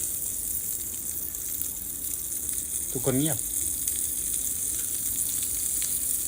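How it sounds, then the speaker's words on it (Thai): HOTPOP popcorn kernels heat in a pan that is being shaken side to side, giving a steady soft sizzling hiss just before popping, with one short spoken phrase partway through. "โอ้โหฟังเสียง ASMR ป๊อปคอน กำลังเดือดนะ"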